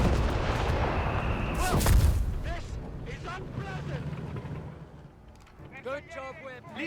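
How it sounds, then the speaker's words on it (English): Booming German artillery fire in the video game Company of Heroes 3, heavy rumbling blasts that peak early and fade, with a commentator talking over it. "we do get artillery cover here out of Xandr and the German army"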